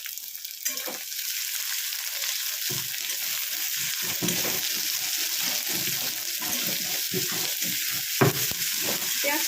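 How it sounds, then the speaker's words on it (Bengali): Onion frying lightly in a pan with panch phoron for aloo posto, a loud, continuous hissing sizzle close up with occasional stirring knocks and crackles. "এবার পেঁয়াজটাকে আমি একটু হালকা করে ভেজে নেবো আগে।"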